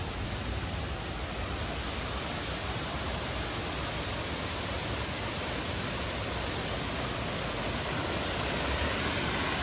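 A small waterfall in the forest at Thommankuthu rushes in a steady, loud broadband roar of falling water, unbroken throughout with no voices.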